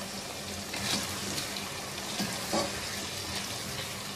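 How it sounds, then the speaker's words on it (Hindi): Chicken liver frying in a pan as tomato paste goes in, a steady close sizzle with a couple of louder bursts of hissing where the wet paste hits, no talking. "आधी प्याली टमाटर का पेस्ट शामिल कर देंगे।"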